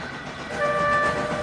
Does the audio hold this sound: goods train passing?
yes